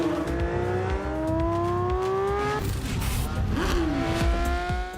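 A 2021 Porsche 911 GT3's high-revving naturally aspirated engine climbs loudly through the gears, its pitch rising steeply, dropping at a shift, then rising again, close and dominant.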